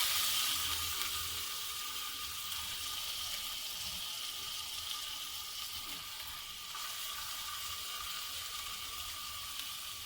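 Chopped onions frying in about three tablespoons of hot oil in a pan for a macaroni dish, a steady soft hiss and crackle that is fairly quiet and continuous, with no talking.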